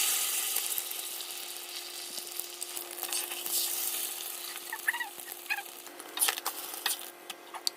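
Parathas cooking on a pan, a soft continuous sizzle with light scrapes, joined later by faint distant honking birds outside; no speech.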